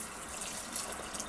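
Vegetable broth pours steadily into a cooking pot, a continuous soft liquid splash and trickle with no breaks, fairly quiet and close with no voices.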